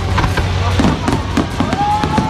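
Fireworks burst at night over Lake Como after a wedding, a steady barrage of crackling pops and booms heard loud and continuous with voices talking underneath.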